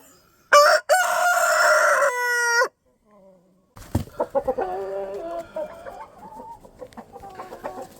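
A red naked-neck rooster crows loudly up close in one long call, followed after a pause by Label Rouge hens clucking and murmuring in an irregular patter.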